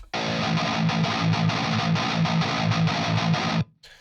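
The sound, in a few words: bright distorted electric guitar through amp plugin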